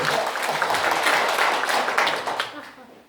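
Audience applause in a lecture hall, a dense wash of many hands clapping steadily for about two and a half seconds before tapering off.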